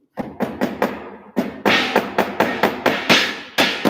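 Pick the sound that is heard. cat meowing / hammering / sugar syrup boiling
hammering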